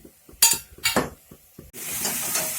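A spoon scrapes and clinks in a pan while poppy seed paste and spices are stirred for pabda fish curry, a few distinct knocks and scrapes, then a steady sizzle as liquid hits the hot pan.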